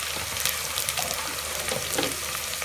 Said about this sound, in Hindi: तो इसको फ्राई होने देते हैं थोड़ी देर के लिए।